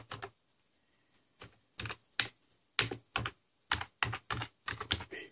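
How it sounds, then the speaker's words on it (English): Computer keyboard typing heard up close, sparse key taps at first then quicker clusters of clicks, quiet with silence between strokes. "You will type in baby monitor."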